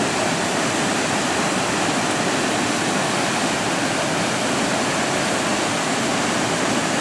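Intestate Falls running at full, heavy flow, a dense, constant roar of falling water that stays loud and unbroken from start to finish, with no voices.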